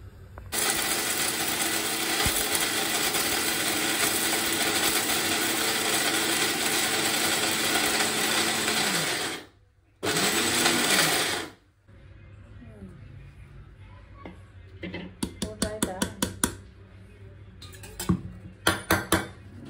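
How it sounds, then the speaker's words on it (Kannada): A mixer grinder grinds dry biryani spice powder for home-made mutton biryani: a loud, steady whir runs for about nine seconds, pauses briefly, runs again in a short burst, then gives way to scattered clinks of the jar and lid. "ಸೀದಾ ಮಿಕ್ಸಿ ಜಾರಿಗೆ. ಸೊ ಇದನ್ನ ಈಗ ರುಬ್ಕೊಳ್ಳೋಣ"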